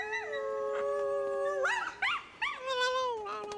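A human voice imitates a coyote howling, with long rising and falling wavering howls and yips, loud and close, with no speech.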